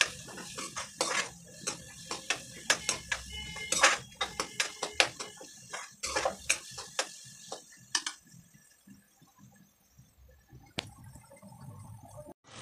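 A spoon mixing spice masala in a pan, giving quiet clinking taps and scrapes in an irregular rhythm that thin out and fade to near silence toward the end.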